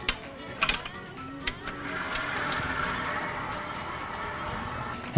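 A mixer briefly beats cookie dough after an egg and egg yolk are added, giving a steady mid-level whir that starts about two seconds in after a few clicks and knocks.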